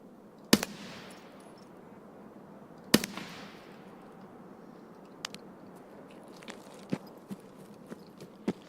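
Two loud sharp gunshots ring out a few seconds apart in the shooter game Escape from Tarkov, each trailing off, followed by fainter scattered clicks and thuds with no talking.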